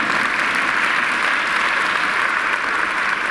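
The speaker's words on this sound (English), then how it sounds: "you're clapping now" Church congregation applauding during a sermon, a dense, steady burst of clapping from many hands filling the room without a break.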